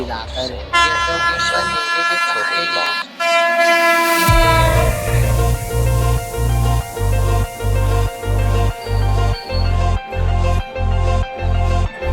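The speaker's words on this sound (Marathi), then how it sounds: "मम्मी ते चालले रेल्वे चाललेली रेल्वे" A train rumbles past close by near a level-crossing gate with a loud horn blast early on, then steady rhythmic clacking of wheels over rail joints.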